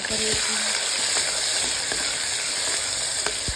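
Mustard, cumin and ajwain seeds sizzle and crackle in hot oil, a steady close frying hiss with scattered sharp pops throughout, heard alone.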